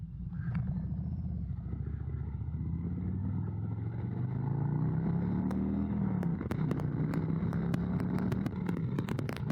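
A Harley-Davidson motorcycle engine rumbles steadily while riding, loud and close, with the pitch rising and falling as the rider accelerates, plus scattered clicks and wind buffeting.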